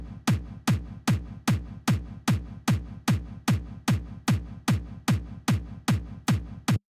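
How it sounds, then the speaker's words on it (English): A kick drum sample from an early-2000s Plutonium Boy sample pack repeats in a steady loop of about twenty punchy, booming hits, evenly spaced and stopping abruptly, alone with no other sounds. "for the kick, it's actually taken from a Plutonium Boy sample pack from the early 2000s"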